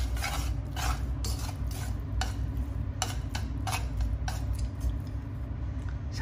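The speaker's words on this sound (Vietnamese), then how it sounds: "mình trộn lên một phần nữa trong chảo á để cho nó thấm vô vị" Utensil scraping and clinking in a pan as stomach stew is tossed with its sauce, coconut-braised pork stomach; steady close stirring taps repeat over a low background hum, no talking.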